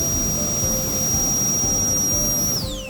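A BOOSTER TF64 portable blower runs with a steady, loud whooshing roar and high whine, then the pitch sweeps downward near the end as it shifts speed.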